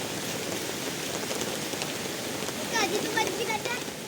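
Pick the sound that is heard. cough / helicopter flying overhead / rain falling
rain falling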